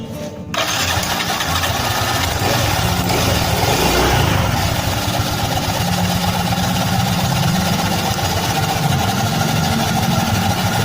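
A Yamaha Mio M3 125 scooter, worked on for a rattling noise in its CVT area, starts after a short crank and settles into a loud, steady, close-up idle with a continuous mechanical rumble.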